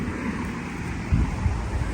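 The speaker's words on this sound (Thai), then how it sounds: "โอ้ยลมพี่น้อง" Wind buffets a microphone outdoors beside a grassy waterside where fish are being caught, a rough low rumble with gusty surges over a constant airy hiss.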